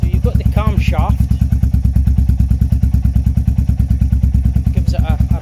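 A Royal Enfield Meteor 350 with its exhaust baffle removed idles with a deep, even, rapid thumping beat close by, with brief voices speaking over it at the start and end.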